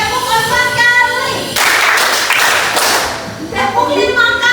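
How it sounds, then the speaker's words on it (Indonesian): A classroom group does a rhythmic clapping ice-breaker game, a burst of quick hand claps from many people that follows and overlaps a voice leading the chant. "Kita ice breaking, tepuk semangat."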